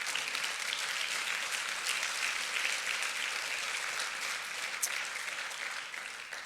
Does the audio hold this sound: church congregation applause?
yes